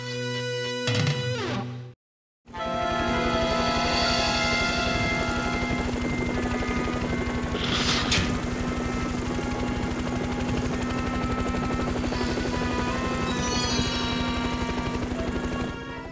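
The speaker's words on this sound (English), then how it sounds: "We've got a chopper waiting." Helicopter in a Street Fighter cartoon, a loud continuous rotor thump and whine that cuts in after a brief silence and runs on steadily, close and alone.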